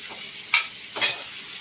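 Pepper, cumin, garlic, curry leaves, green chilli and neem flowers sautéing in a pan for rasam, a soft steady sizzle under two brief stirring scrapes close by, with no talking.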